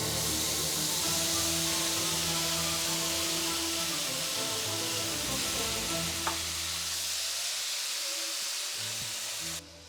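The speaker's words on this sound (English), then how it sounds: "we're going to throw in our shrimp." Shrimp marinated in ginger garlic paste sizzles in a hot pan, a loud, steady frying hiss with crackling spatter running nearly unbroken until it cuts off abruptly at the very end.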